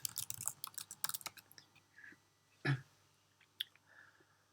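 A password is typed on a computer keyboard as a quick cluster of light, close key clicks, followed by a few scattered taps and soft thumps in a quiet room.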